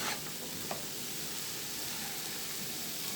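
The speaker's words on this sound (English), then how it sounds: "We're gently combining all these seasonings" Seasoning being stirred and combined in a pot of steamed Jamaican callaloo with Scotch bonnet pepper, a steady close hiss of cooking with faint scraping throughout and no talking.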